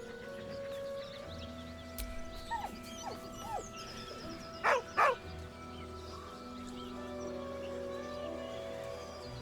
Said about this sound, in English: With a deep, heartbroken whine, the dog bows his head.